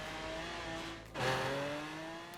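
A Bugatti Veyron in Forza Horizon 3 runs steadily with harmonic engine tones, then shifts with a brief surge and rising pitch before settling into a sustained drone, loud and close with no talk.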